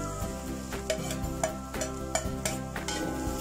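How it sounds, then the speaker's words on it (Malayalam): Fried egg stirred into vegetables in a hot pan for egg Maggi noodles: repeated scraping and clinking spatula strokes over a steady close sizzle, with no talking. "നന്നായിട്ട് മിക്സ് ചെയ്യാം"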